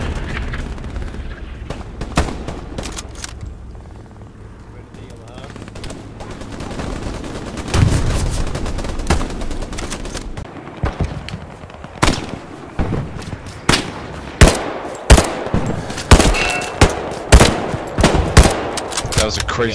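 Rapid game gunfire in a Hell Let Loose World War II battle, bursts of machine-gun fire and single shots cracking near and far over a steady battlefield rumble, with a few voices talking now and then.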